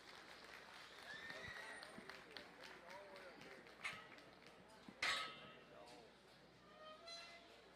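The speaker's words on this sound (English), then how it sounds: "please give these exhibitors a round of applause" Scattered applause from a livestock show audience for youth exhibitors showing breeding gilts in the ring, quiet and distant clapping mixed with crowd noise and speech.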